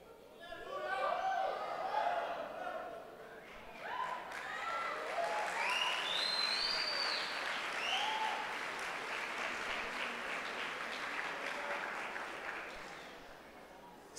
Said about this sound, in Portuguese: Espero que você não se arrependa de ter aplaudido.